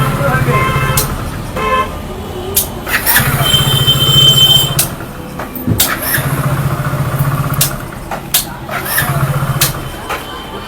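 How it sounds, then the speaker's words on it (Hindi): A Hero Splendor BS6 motorcycle's self-starter, faulty so it spins on its own once the key is turned on, cranks in repeated whirring bursts with squeals and clicks between them. Loud and close, with voices around it. "बाइक चाबी ऑन करते ही अगर सेल्फ स्टार्ट काम करे यानी कि ऑटोमेटिक सेल्फ ना दबाए और बाइक की सेल्फ अगर घूमने लगे"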